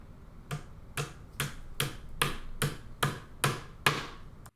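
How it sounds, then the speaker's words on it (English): A hammer drives fasteners into a dresser board, nine sharp, evenly spaced knocks about half a second apart, close and clear in a quiet room. "Then put the fastener in and hammer it in."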